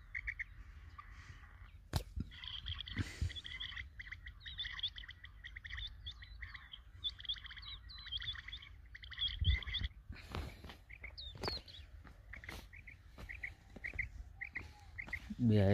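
Quail calls repeat in short chirping bursts at a moderate distance during a hunt in open country. Faint movement noises sit underneath, with no clear talking.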